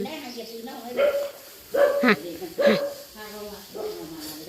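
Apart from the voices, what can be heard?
dog barking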